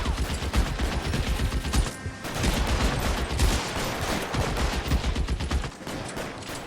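Gunfire in the video game L.A. Noire, a dense, continuous barrage of rapid shots and impacts that fills the whole stretch loudly, with a brief dip near the end.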